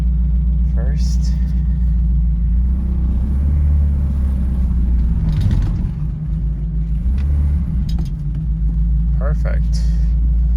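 Morris 1300 barn-find car engine idling steadily while warming up, a loud continuous low rumble throughout with brief voices talking over it at moments.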